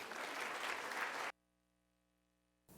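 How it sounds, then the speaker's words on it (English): A crowd applauds author Imbolo Mbue at a salon talk, a loud wash of clapping that cuts off abruptly into near silence, then resumes briefly at the very end. "Please give a big round of applause for Imbolo Mbue."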